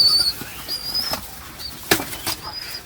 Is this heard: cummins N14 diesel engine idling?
no